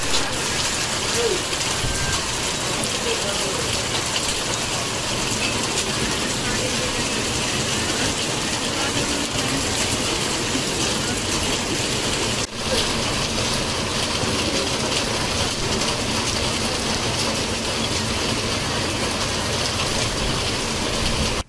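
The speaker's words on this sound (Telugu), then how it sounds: "తుఫాన్ ప్రభావంతో సచ్చివేడు నియోజకవర్గంలో భారీ వర్షాలు కురుస్తున్న పరిస్థితి" Heavy rain pours down during Cyclone Ditwah in the Sachivedu constituency, a dense, steady roar that holds for the whole stretch with no voices.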